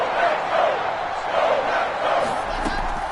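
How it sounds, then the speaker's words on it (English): A large stadium crowd in a Madden NFL football video game roars and cheers steadily ahead of a big third down, a dense continuous wash of voices heard at a distance. "The crowd getting into it as we come up on a big third down."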